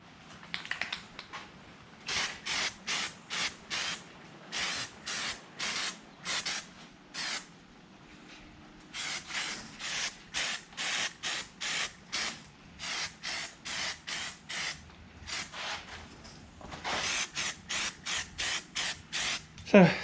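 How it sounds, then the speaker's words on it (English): Rust-Oleum rust inhibitor undercoating sprays from an aerosol can onto the underside of a Ford Super Duty truck during ball joint work, heard as a rapid series of short, close hissing bursts separated by brief pauses, with no talking. "So it's just a Rust-Oleum undercoating. It's a rust inhibitor and coating."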